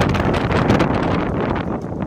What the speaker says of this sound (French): Le vent est avec moi.